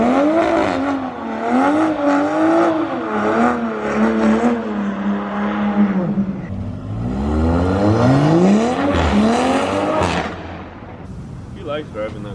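A 1400hp R33 Nissan Skyline GTR engine revs loudly up and down in rising and falling sweeps, dropping briefly before climbing again and fading near the end, with people talking over it.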